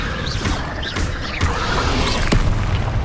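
Spell blasts in Hogwarts Legacy, a rapid series of booming impacts and crackling bursts layered over dense game effects, several hits within a few seconds.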